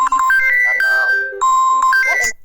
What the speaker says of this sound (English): Okay. that was my phone.